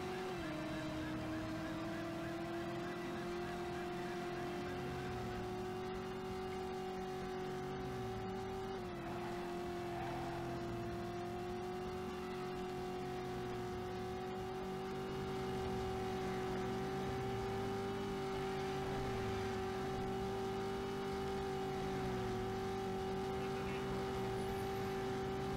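A car drives in the video game Driver, its engine holding a steady, continuous drone with only slight changes in pitch throughout.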